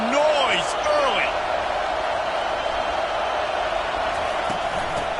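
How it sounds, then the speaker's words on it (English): A stadium crowd at a football game roars in a steady, dense wash of cheering and chatter that holds for several seconds, with a few whistles and shouts rising above it near the start. "This crowd bringing the energy and noise early."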